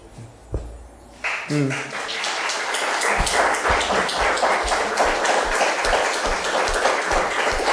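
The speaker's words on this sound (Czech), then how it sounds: "Are you clapping because you want that to be the end?" An audience at a talk bursts into sustained applause, dense clapping building quickly and continuing steadily for several seconds, loud and close.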